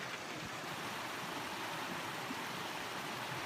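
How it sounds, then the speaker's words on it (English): A stream in the Grand Canyon near Indian Garden flows as a faint, steady rushing hiss that holds level throughout, with no voices. "another stream."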